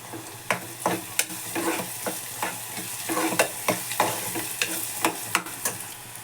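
Egg curry being stirred in a pan with a spoon, giving repeated close scraping and clinking strokes at an irregular rhythm over a steady sizzling fry, with no talking.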